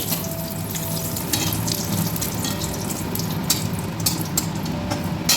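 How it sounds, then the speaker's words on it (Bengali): Dried red chillies and bay leaves go into hot oil just used for frying a fish head, producing a close, continuous crackling sizzle with light bursts of spatter. "এই তেলে আমি শুকনো লঙ্কা আর তেজপাতা দিয়ে দিচ্ছি।"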